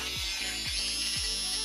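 A Dremel rotary tool drills a hole through a small clay earring piece resting on scrap wood: a high, steady electric whine runs close and loud, with three brief downward dips in pitch as the bit bites into the clay.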